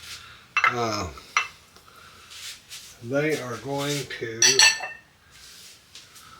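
Pots and pans clank in a home kitchen during apricot jam making, with a few sharp metallic clatters scattered between stretches of a person talking.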